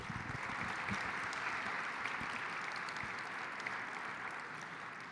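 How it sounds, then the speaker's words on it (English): Sustained audience applause at a Missouri Realtors winter business conference, a steady dense wash of clapping from a large crowd that holds for the full five seconds without a break. "Let's give them a round of applause."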